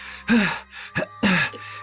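A man pants heavily, out of breath, in a few sharp voiced gasps separated by short pauses, close and fairly loud.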